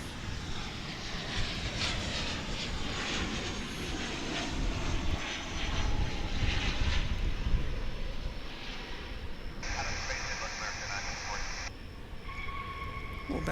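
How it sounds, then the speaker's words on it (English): American Airlines Boeing 737-800 arriving at DFW airport, a steady, moderately distant jet roar that swells and fades, with a brief high whine near the end. "Coming in at this moment from Omaha, Nebraska, we've got American Airlines Flight"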